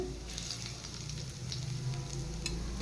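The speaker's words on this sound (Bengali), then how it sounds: "চার কোয়া রসুন কুচিয়ে নিয়েছি তেলে দিয়ে দেব প্রথমে রসুনটা একটু ভেজে নিলাম" Chopped garlic, four cloves, frying in hot oil in a home kitchen, giving a steady close sizzle with light stirring scrapes throughout and no talking.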